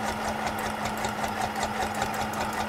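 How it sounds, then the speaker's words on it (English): A sewing machine runs steadily with a fast, even mechanical chatter and a low hum, close and continuous, without talking. "I don't even know if you guys can hear me over the sewing machine."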